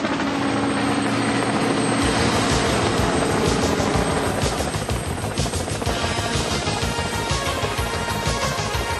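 A helicopter flies overhead above a Dollar General store, its rotor chopping in a steady dense thrum with loud engine roar throughout, no voices.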